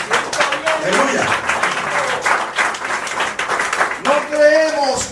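A church congregation breaks into sustained applause, dense clapping filling the room from start to finish, with voices calling out over it near the beginning and again toward the end.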